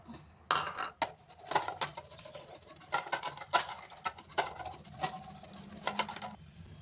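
Rapid, uneven clicking and tapping of a utensil against a wide bowl as yogurt is whisked, continuing steadily at close range with no voices.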